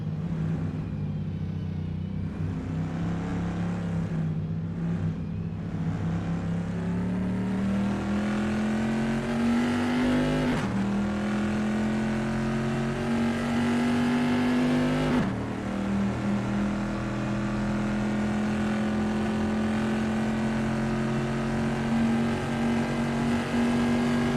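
Vintage pre-1973 race car lapping through the Rivazza corner at Imola in the video game Assetto Corsa, a loud continuous engine drone that climbs in pitch through gear changes, with brief dips at each shift and no talk.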